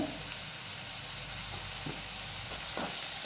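Ingredients with a pinch of asafoetida and salt roast in a hot pan, making a steady close sizzle and hiss, with a few soft scrapes and knocks as they are stirred.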